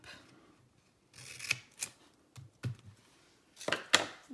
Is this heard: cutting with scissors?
yes